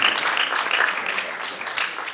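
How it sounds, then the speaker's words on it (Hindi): Audience applause for senior theatre actors after a stage performance, a dense, steady clatter of many hands clapping throughout, moderately loud and close. "एक बार जोरदार तालियां और हो जाएं वरिष्ठ कलाकारों के लिए जिन्होंने शानदार अभिनय से समा बांध दिया।"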